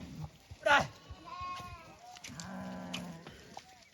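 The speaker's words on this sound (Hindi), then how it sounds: "काकू भाई लेकर आए हैं पत्ते, और कैसे ये खाने के लिए सभी आ चुके है" Sheep and goats in a jungle camp bleating as they crowd in to eat leaves brought to them, several overlapping bleats, one sharp and close, others softer, with people talking nearby.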